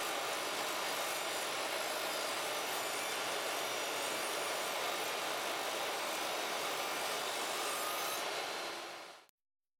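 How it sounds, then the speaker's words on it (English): A table saw cuts through a clamped bundle of wooden lattice slats at an angle, giving one long, steady, loud whirring rip that holds for about nine seconds and then stops abruptly. "A faster way to make your angled cuts is with a table saw."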